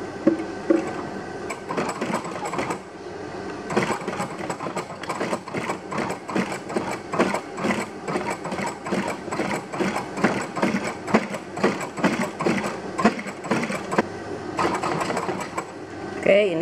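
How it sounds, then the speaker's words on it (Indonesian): A sewing machine stitches the front of a high-heel sandal upper, its needle chattering in rapid regular bursts with short pauses, close by, while a person talks over it. "Nih, kita akan mulai jahit bagian depannya dulu ya."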